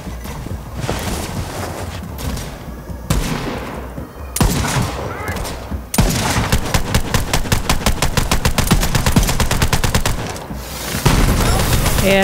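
Jakobs rifle fire in the video game Borderlands 3, loud and continuous rapid shots and bursts with a dense run of evenly spaced cracks in the middle, over game ambience and effects.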